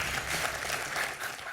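Studio audience applauding a newly crowned champion on a French television quiz show, a steady dense patter of clapping that holds for the whole stretch without pause.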